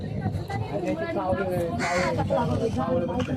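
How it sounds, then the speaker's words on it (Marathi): Crows in a tree caw harshly in the background while a person talks over them, the calls repeating a few times at moderate distance. "ते बहुतेक ते झाडावरचे कावळे"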